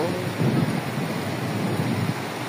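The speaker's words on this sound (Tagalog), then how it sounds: "Ulan po." Heavy rain pours steadily outdoors near a tent, a dense continuous wash with a low rumble of thunder swelling underneath, loud and close throughout with no clear voices.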